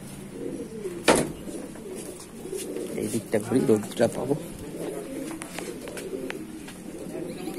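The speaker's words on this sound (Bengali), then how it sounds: "কালো দানা চোখের পায়রা" Madrasi pigeons coo in soft, low rolling calls at a loft, heard beneath a man's nearby speech, with a sharp knock near the start.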